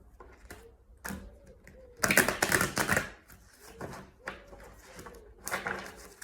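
Tarot cards riffle and snap in several crisp bursts separated by short pauses, close to the listener, one burst louder and longer than the rest.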